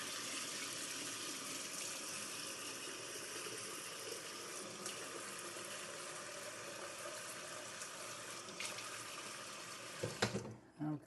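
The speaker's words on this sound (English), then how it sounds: "also going to wet down the mystery stone here" Water runs from a tap to wet a honing stone for sharpening a Genco straight razor, a faint steady splashing flow that ends with a few clatters near the close.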